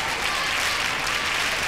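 Dense, steady roar of a large arena crowd cheering at a 1992 Olympic rhythmic gymnastics preliminary, welcoming a home-nation gymnast, Carmen Acedo, sustained and loud throughout with no gaps.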